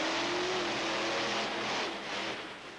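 Monster truck launching off the starting line at a 2004 Fresno, California monster truck event, a loud sustained engine roar rising then fading slightly, heard alone.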